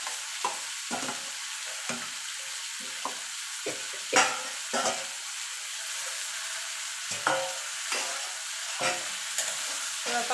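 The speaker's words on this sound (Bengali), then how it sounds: "পাতার সঙ্গে ভালো করে এগুলো একটুখানি নাড়াচাড়া করে নেব।" Taro leaves stirred and fried in a pan, a steady sizzle running underneath while a spatula scrapes and knocks at irregular intervals, close and fairly quiet.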